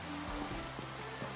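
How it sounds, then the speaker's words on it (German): Soft, steady rain falls in the Minecraft world, a faint continuous watery hiss with a few low thumps, quiet and uninterrupted. "Warum regnet es schon wieder? Es regnet immer."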